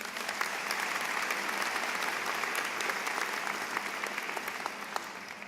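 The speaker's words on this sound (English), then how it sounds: "And let's give them a round of applause." An audience at a high school commencement claps steadily, with dense, sustained applause throughout.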